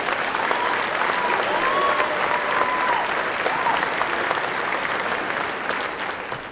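Dinner-event audience applauding to welcome Richard Fimbres at an anniversary award and celebration dinner: steady, dense clapping across the room, loud and sustained, thinning slightly at the end, with a few faint voices mixed in.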